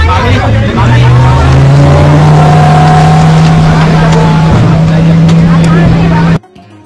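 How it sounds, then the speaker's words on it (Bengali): Speedboats run on a lake in Udaipur, a loud, steady motor drone with a sustained engine tone close by, under faint background voices before cutting off abruptly at the end. "এরকম আছে বেশ কিছু স্পিড বোট।"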